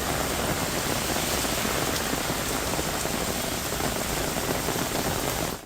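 Heavy night rain pours steadily over Hyderabad, a dense, unbroken roar of rainfall at a constant loud level throughout, with no voices.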